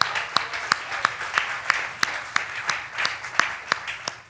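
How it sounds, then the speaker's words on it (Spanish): A church congregation applauding during a worship service: a fairly quiet patter of many hands with a steady run of sharper individual claps, no voices over it. "Denle un aplauso al Señor."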